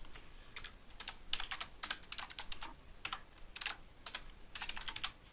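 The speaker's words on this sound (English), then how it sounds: "I'm going to type its coordinates into the longitude and latitude boxes." Fingers tap out coordinates on a computer keyboard in quick, irregular bursts of light clicks, close and clear with no voices.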